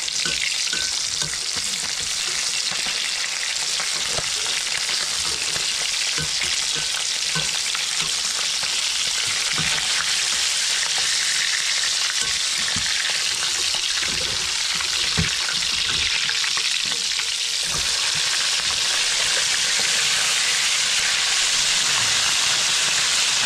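Fresh fish fries in a pan, a dense, steady sizzle and hiss close up with occasional crackles and pops, running continuously without talk.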